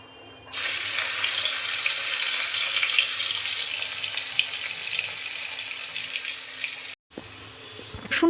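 Crushed garlic and nigella seeds fry in hot oil in a kadai for an egg curry, a steady, loud sizzle that starts abruptly after half a second, runs unbroken and drops out briefly near the end.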